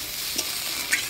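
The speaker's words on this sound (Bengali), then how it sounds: "সামান্য জল দিয়ে আলুর সাথে মশলাটা ভালো করে কষা নেব" Potatoes and spice paste with a splash of water being stir-fried in a pan, a close sizzle with two quick scraping strokes of a spatula.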